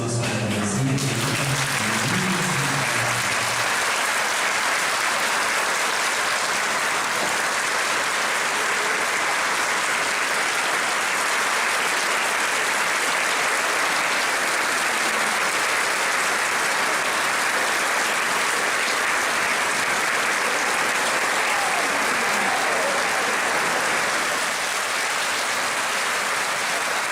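Sustained audience applause filling the hall, a dense steady roar of many hands clapping that carries on for nearly half a minute after a brief opening.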